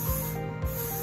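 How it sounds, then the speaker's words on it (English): Hairspray hisses steadily from an aerosol can onto a French braid, a continuous close spray lasting about a second with no talk. "take my hairspray and I kind of pat it, just to kind of get rid of any of the fuzzies"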